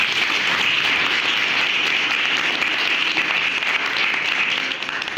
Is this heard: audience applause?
yes